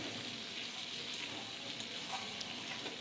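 Boiled taro (gathi kochu) frying in a pan gives a faint, steady hiss and crackle of hot oil, continuous and close, with no voices.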